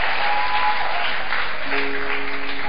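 A church congregation breaks into dense, sustained applause during a service celebrating a newborn, loud and continuous throughout with a few faint tonal traces underneath.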